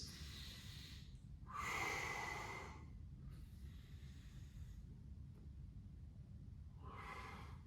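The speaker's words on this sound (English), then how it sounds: "Don't forget the breathing." Slow, deep breaths during a low back exercise, with four audible inhales and exhales spaced a second or two apart. The breaths are close, soft and airy, with no talking.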